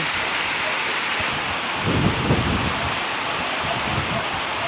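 Heavy rain pouring steadily, a dense continuous hiss with some low rumbling in the middle, close and loud.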